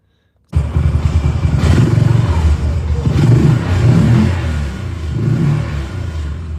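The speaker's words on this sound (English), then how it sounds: "Can y'all hear that engine running from this video?" A loud UTV engine idles and repeatedly revs up, rising and falling in a low throaty roar that runs continuously throughout.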